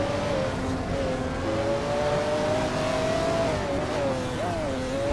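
Lamborghini race cars speeding in a Hot Wheels race, a continuous high engine whine with rising and falling pitch as the cars tear around the track, loud and close over a dense roar.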